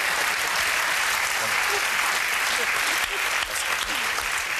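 A large TV talk show studio audience applauds loudly and continuously, a dense wash of clapping with a few cheers mixed in.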